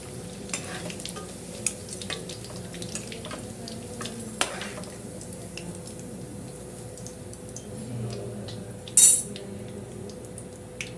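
Fried bread tea snacks scooped out of hot oil, a soft continuous bubbling fry under scattered metal scoop and pan clinks, with one sharp bright clatter near the end.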